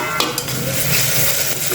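Ginger garlic paste and chillies sauté in a hot pan, a steady close sizzle with a couple of faint clinks from stirring.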